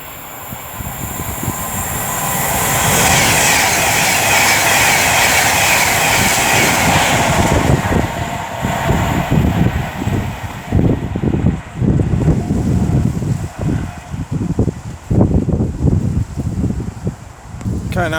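A Class 390 Avanti West Coast train passes through Rugeley Trent Valley station on the West Coast Main Line, a loud rising rush and roar that gives way to rhythmic wheel clatter as the carriages go by.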